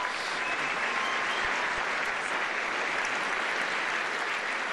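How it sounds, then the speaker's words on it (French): A large audience applauds finalists and award winners on stage at a talent final: steady, dense, continuous clapping that fills the room at an even level throughout. "vous pouvez les applaudir à nouveau, tous les lauréats"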